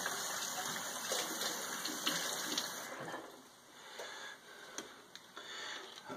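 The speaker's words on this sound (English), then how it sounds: "Take my hydrometer out, rinse it off." Running water rinses a hydrometer, giving a steady splashing gush that eases off partway through into quieter drips and trickles. It is fairly faint and has no talk.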